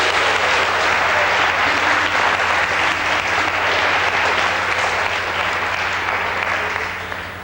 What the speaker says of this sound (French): Je voudrais qu'on applaudisse Brigitte